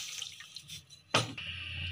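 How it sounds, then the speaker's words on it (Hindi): A glass of water is poured into a pan to start the syrup for suji halwa: a sudden, short splashing gush after a quiet kitchen moment, followed by a faint lingering trickle. "तो इसके अंदर सबसे पहले 1 गिलास जो है पानी"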